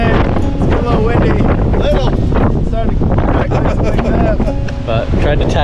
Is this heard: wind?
yes